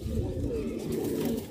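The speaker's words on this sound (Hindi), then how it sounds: "ये जी नेक्स्ट कबूतर है जी, गोला कबूतर है" Male fighter pigeons, including a gola kabootar, cooing in a steady low murmur close by, with several birds overlapping continuously.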